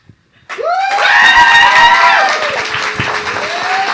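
Loud audience applause mixed with whoops and cheering at a comedy showcase, swelling quickly and holding steady for several seconds, with a sustained high shout rising over the clapping.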